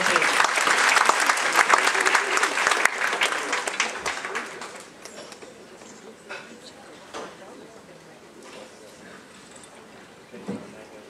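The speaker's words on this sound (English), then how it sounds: "Another round of applause for" Audience on a Princess cruise ship stage bursts into loud applause that peaks early, then thins out to scattered clapping, with a voice talking over it.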